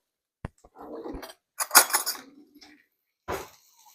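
A metal spoon clinks and scrapes against a pot while tomato paste goes in for goulash, a few sharp taps and clatters separated by short silences, close and clear.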